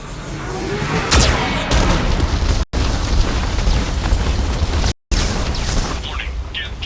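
Heavy explosions from a Geth cannon in Mass Effect 2 boom repeatedly, loud and dense with rumbling low end, cut by two brief silences and overlaid by a synthetic warning voice.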